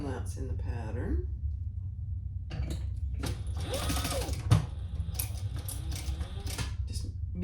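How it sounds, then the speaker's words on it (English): A sewing machine runs a seam on a crossbody bag, its mechanism whirring and clattering in steady bursts at close range, with a sharp knock partway through. "let's sew this on at seam allowance in the pattern"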